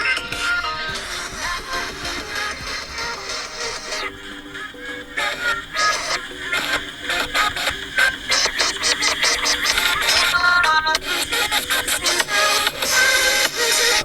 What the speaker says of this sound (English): So let's play music again.